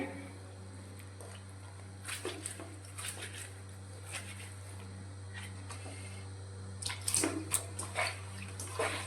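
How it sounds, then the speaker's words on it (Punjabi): Stained cloth is washed in leftover potato water, with intermittent splashing and sloshing bursts that grow busier toward the end, over a steady low hum. "ਤੇ ਆਪਾਂ ਇਹਨੂੰ ਹੁਣ ਧੋਣੇ ਆ"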